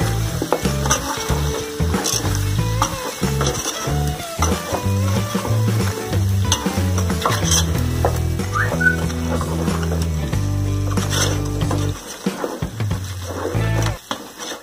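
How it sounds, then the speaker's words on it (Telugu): Broiler chicken with ginger garlic paste sizzles and fries in a pan while being stirred. A steady crackle runs throughout beneath loud background music. "ఇప్పుడు ఇదంతా కూడా మళ్ళీ మనం మంచిగా మిక్స్ చేసుకుందాం."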